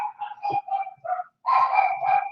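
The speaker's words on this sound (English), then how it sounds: "The dogs are barking." Dogs barking indoors in a home, a quick run of sharp close barks and yips in two bursts separated by a brief pause, loud and alone without talk.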